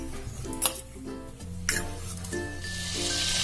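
Oil and butter heating in a kadai: a few metallic clinks and knocks of utensils, then a soft hissing sizzle that swells near the end, with no speech.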